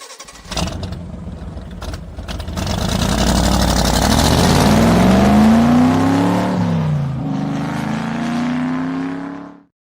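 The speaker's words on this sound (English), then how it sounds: "It's a car, big, what do you call it? Like old school car engine ripping around." A big old-school car engine starts and revs hard, climbing in pitch through sustained, loud roaring pulls with a brief dip before rising again, then cutting off abruptly near the end.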